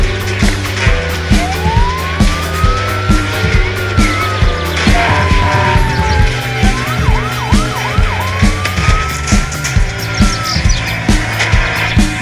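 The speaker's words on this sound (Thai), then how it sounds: "เดี๋ยวเราเรียกรถดับเพลิงเข้ามาเลย" A fire truck siren in the game EMHQ rises and falls, then switches to a rapid yelp before returning to a long wail, over a steady low engine rumble and rhythmic thumping.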